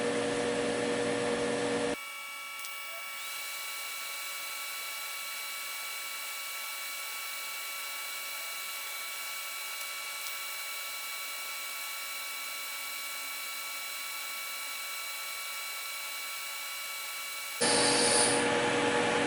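Steady electric buzzing hum of a TIG welder joining the tines of a 3D metal star, unbroken for about fifteen seconds between louder background at start and end, no talk.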